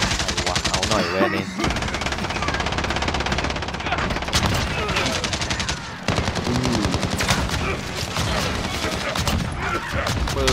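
Rapid machine gun fire from Call of Duty: Modern Warfare rattles continuously and loudly for about ten seconds, with dense overlapping bursts and only brief breaks.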